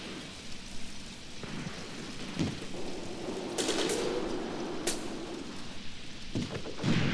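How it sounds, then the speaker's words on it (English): Machine gun fire in the WWII tactical game Graviteam Tactics: Mius Front rattles as a dense, continuous crackle. A few sharper, heavier shots stand out from the distant, rain-like background. "Keep up the machine gun fire."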